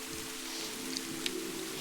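Steady heavy rain pours down in a Hindi cartoon about a bird family, a dense even hiss with a few brief sharper drop hits, no voices.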